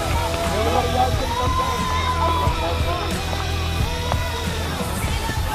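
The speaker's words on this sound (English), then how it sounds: "Stand up and cheer, stomp your feet" A youth rally crowd cheers and stomps in a dense, steady roar of voices and shouts that stays loud and continuous throughout.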